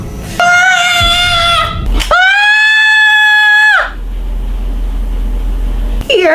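A person screams in long, loud, shrill bursts, two sustained wails separated by a short break, with a sharp cry at the end and background noise between.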